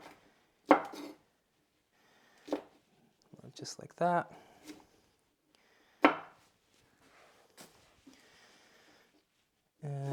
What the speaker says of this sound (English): I'm just gonna cut them roughly so they fit into the blender more easily